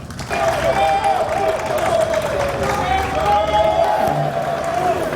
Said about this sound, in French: je vous demande d'applaudir très fort le directeur général